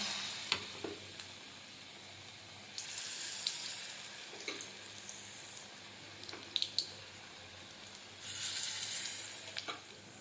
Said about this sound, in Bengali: কড়াতে তেল গরম করে নিয়েছি এবার দিয়ে দেবো বেসনে ডুবিয়ে রাখা পটলগুলো